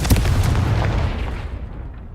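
A Confringo spell from Hogwarts Legacy bursts into a loud, close explosion, a deep booming blast with rumbling low end that fades out over a couple of seconds.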